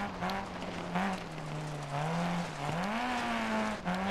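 Rally car from the 1970 Clubman championship in Dirt Rally, engine revving steadily and shifting pitch as it drives a dirt stage, continuous and loud with brief dips between gears and no talk over it.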